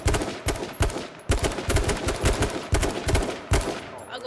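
Gunfire in the battle royale game H1Z1 King of the Kill, loud rapid shots in short clustered bursts with brief gaps between them, close and dominant.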